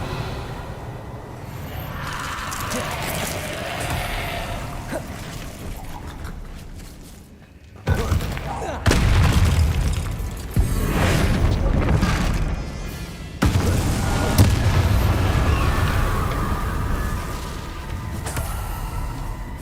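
Confringo and Bombarda spell blasts in the Hogwarts Legacy video game, heavy booming impacts with deep rumble cutting in abruptly several times over a dense, continuous game soundscape.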